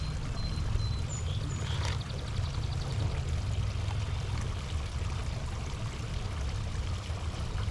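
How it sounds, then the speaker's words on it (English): Steady rushing splash of water pouring continuously into plastic vases, close and fairly loud, with no voices. "I'm putting water in it"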